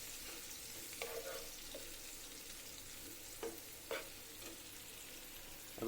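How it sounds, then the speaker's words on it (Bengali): Onions and green chillies frying in oil for a tomato and pomfret curry, a low steady sizzle broken by a few brief stirring clinks and scrapes, no voices. "আর পেঁয়াজ আর কাঁচামরিচ ভাজা হয়ে আসছে।"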